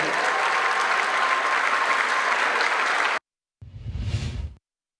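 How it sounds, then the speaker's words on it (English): Audience applause at a school ceremony for Kingsville ISD, a steady dense wash of clapping that cuts off abruptly, followed after a short silence by a brief rumbling whoosh. "Clap it up to you."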